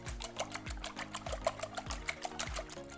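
Eight raw eggs whisked in a bowl for a Greek village-style omelette: a quick, steady rhythm of wet clinking strokes repeating several times a second, close and fairly loud.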